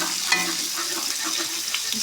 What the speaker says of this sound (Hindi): प्याज को हम क्या करेंगे, ब्राउन करेंगे थोड़ा सा